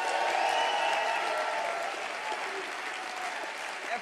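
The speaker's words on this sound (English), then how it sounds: "give yourselves a round of applause" Convention crowd claps continuously in a dense, even wash of applause that fades slightly toward the end.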